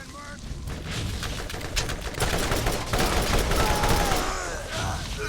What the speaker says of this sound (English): Who was shooting me from that distance?